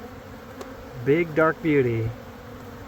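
Honeybees crowd around a queen bee near a hive box, a steady buzzing drone underneath as someone speaks briefly in the middle.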